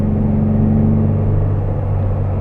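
Air-cooled boxer engine of a 1962 Porsche 356 B 2000 GS Carrera 2 droning steadily at close range while driving, a continuous low rumble with a smooth, even pitch and no talk over it.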